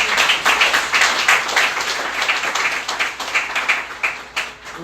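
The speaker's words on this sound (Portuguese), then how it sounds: "Pode dar uma salva de palmas ao Senhor?" A church congregation claps together in praise at a Sunday service, a dense, steady wash of many hands filling the room for several seconds with no talk over it.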